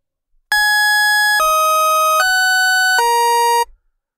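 A Massive software synthesizer sounds three wavetable oscillators at once, giving a loud, bright, buzzy sustained tone that steps through four pitches over about three seconds before cutting off cleanly, with no voices.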